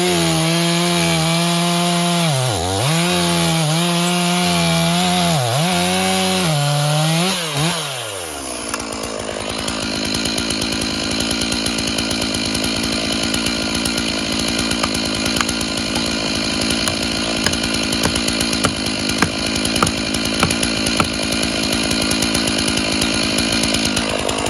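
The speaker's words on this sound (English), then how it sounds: "the chainsaw bites deep into the thick trunk, creating a deep cut" A chainsaw cutting through a thick tree trunk during logging, with the engine rising and falling before settling into a loud, steady roar as the chain bites deep into the wood.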